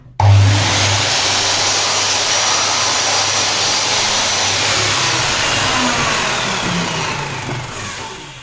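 Power saw cutting through the rough end of a wooden parasol stick: a loud, continuous whining buzz that starts abruptly, holds for several seconds and tapers slightly at the end, close by.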